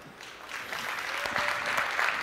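Audience applause at a Talent Connect Vegas 2013 conference talk, clapping that swells from scattered hands into a fuller round over about two seconds.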